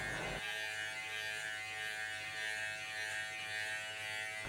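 An electric hair clipper buzzes steadily and close at moderate volume while it trims hair during a fade cut. The hum switches on near the start and holds an even drone throughout.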